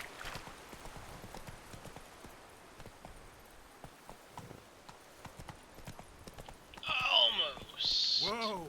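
Hooves of the horse Roach clip-clop at a run in the video game Witcher 3, a quick steady patter, with a couple of neighs or snorts near the end. The sound stays fairly faint throughout.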